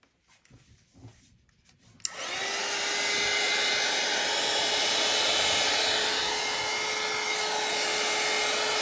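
A dryer blowing to dry a piece of whimsical artwork starts abruptly after a quiet moment, then roars steadily and close with a constant whine.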